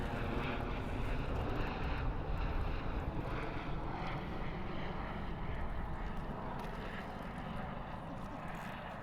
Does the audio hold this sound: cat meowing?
no